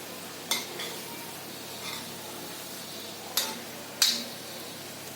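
Cabbage bhaji fritters frying in a pan and being turned over, a soft steady sizzle with a few sharp clinks and scrapes of a spoon against the pan, close and quiet, without talk.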